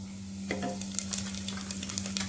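Cloves and cumin seeds crackle and sizzle in hot oil in a pan while being stirred, a steady close frying hiss with small spattering pops and scraping throughout.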